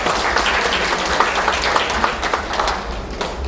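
A crowd gathered for a memoir book launch at the National Assembly Museum breaks into dense, even clapping, loud and near, sustained without pause for a few seconds.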